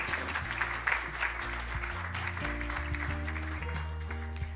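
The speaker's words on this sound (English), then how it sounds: "please give them another round of big applause" Audience applause at the close of a session of the 13th Asia-Pacific ADR Conference, honoring speakers and moderators. A steady, moderately loud wash of clapping fills the whole stretch while a sustained musical tone plays underneath.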